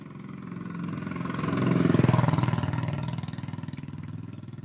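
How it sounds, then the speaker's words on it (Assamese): A motorbike engine runs on a rain-soaked road on Vishwakarma Puja day. It hums steadily and swells louder as if drawing near, peaks around the middle, then eases away again, with no talking over it. "এই বাইক"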